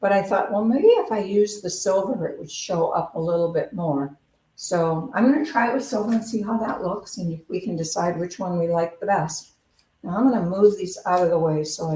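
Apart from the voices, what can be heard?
No everyday noises stand out.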